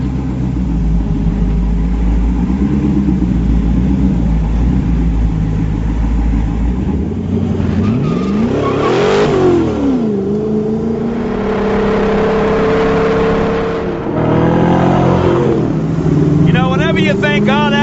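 The Deronda hot-rod car launches hard with race launch logic and traction control off, its engine revving and roaring through a rising, falling sweep, loud and close, with someone talking over parts of it.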